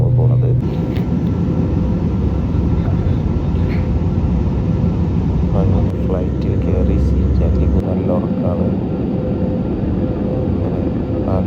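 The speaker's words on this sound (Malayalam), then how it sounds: "അങ്ങനെ ഇതാ ഫ്ലൈറ്റിൽ കയറി ഞങ്ങൾ പോണത് സുന്ദുവിൻ്റെ മാരേജ് കൂടാനാണ്" A steady, loud airplane cabin drone fills the whole stretch, a constant low roar with people talking over it.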